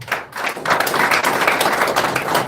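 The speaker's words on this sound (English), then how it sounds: "Another round of applause for him." A crowd at a press conference after the 2023 Nigerian presidential election breaks into applause, a dense, steady patter of many hands clapping that rises quickly and holds for a couple of seconds.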